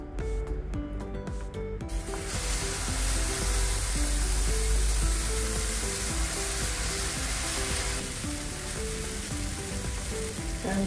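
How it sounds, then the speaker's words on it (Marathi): Bajra uttapam batter with vegetables sizzling loudly and steadily on a hot griddle, a dense, close hiss that starts abruptly and carries on throughout, over faint background tones. "आणि आता उत्तप्पा करायला घेऊया। तवा चांगला तापलेला आहे"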